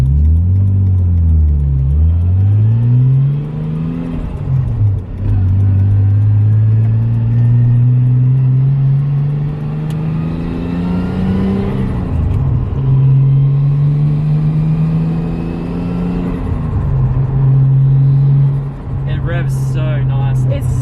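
A Nissan R33 Skyline engine with a new turbo cranks, catches and rumbles loudly, revving up and down several times before settling into a steady idle.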